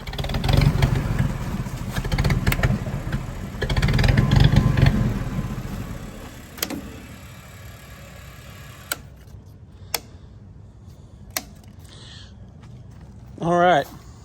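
An old army generator engine runs with a clattering, uneven chug, loud at first and then settling into a quieter idle broken by sharp ticks and a brief rising whine near the end.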